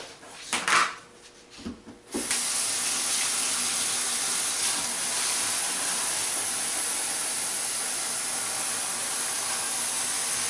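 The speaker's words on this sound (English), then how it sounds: "fill this up with water" Tap water runs steadily into a container for sprouting wheatgrass indoors, a continuous close rushing stream after a couple of brief knocks and handling sounds at the start.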